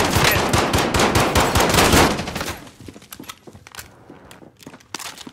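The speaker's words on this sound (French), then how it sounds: "Je me prends des balles de l'ennemi!" Enemy gunfire in Call of Duty: Modern Warfare: loud, dense automatic bursts rattle for a couple of seconds, then fade into quieter scattered shots and crunching footsteps.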